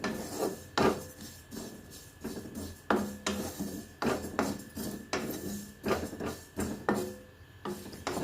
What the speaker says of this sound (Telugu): ఎక్కువసేపు వేగక్కర్లేదండి, చిటపటలు ఆడాక తీసేద్దాం.